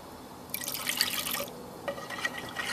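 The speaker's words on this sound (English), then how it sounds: "I'm going to add a little bit more water." Water poured in small splashes and drips into a sinew-and-glue mixture for backing a juniper bow, two short bursts of trickling close by, with no talk.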